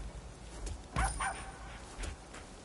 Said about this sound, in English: Can I pet that dog?